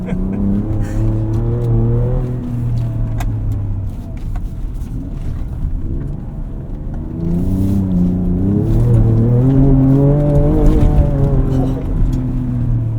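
A 2024 Ford Ranger Raptor driving off-road over dips and jumps, its engine droning and rising in pitch as it revs, loud and close throughout, with people talking over it.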